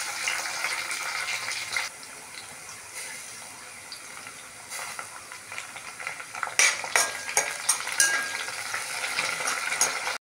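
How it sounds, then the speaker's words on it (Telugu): Cumin and mustard seeds sizzle in hot oil in a home kitchen, giving a steady fizzing hiss with occasional clinks of a spoon and louder bursts of crackle toward the end, no talk. "నూనె వేడిన తర్వాత 1 టేబుల్ స్పూన్ జీలకర్ర, 1 టేబుల్ స్పూన్ ఆవాలు"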